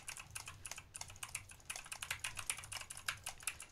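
Rapid typing on an Asceny One 60% mechanical keyboard, with a dense, steady run of crisp keystroke clicks close up and no voices.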